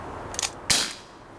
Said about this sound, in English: Taking some shots at the target there, your range will be about 6-7 meters.